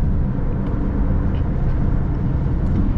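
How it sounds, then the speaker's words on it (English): A steady low engine drone and road rumble fill the cabin of a 2017 Subaru Outback while driving, even and unbroken throughout. "The engine is a little bit louder, but it's not buzzy."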